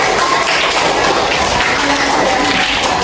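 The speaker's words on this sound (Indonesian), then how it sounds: "Oke, kita berikan tepuk tangan." Schoolchildren applaud in a classroom during a lesson, a dense, steady clatter of clapping that stays loud and close for the whole stretch with no talking over it.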